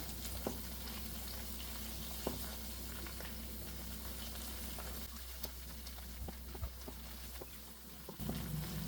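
Egg curry masala stirred and sautéed in a pan, with a steady close sizzle and occasional scraping stirs running throughout.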